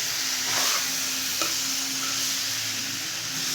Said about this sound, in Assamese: অকণমান লাহে লাহে লৰাই দিম